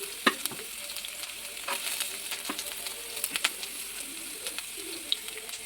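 Ginger, green chilli and curry leaves frying with mustard seeds in hot oil, a steady soft sizzle with scattered small pops and crackles, fairly faint, with birds cooing in the background.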